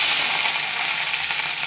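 Prawns fry in hot oil, a close, steady and dense sizzle with hiss that holds evenly for the whole stretch, no voices over it.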